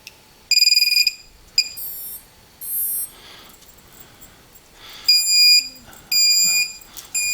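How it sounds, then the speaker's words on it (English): Series of high electronic beeps and tone bursts of varying length from a Tarot TL130H1 micro FPV race drone powering up on battery, loud and close, with short silent gaps between them. "we can hear it all power up"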